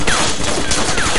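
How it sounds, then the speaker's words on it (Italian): M4 rifle fire in the DayZ video game comes as a rapid burst of repeated gunshots. The shots are loud and dense and continue through the whole short stretch. "M4 che spara."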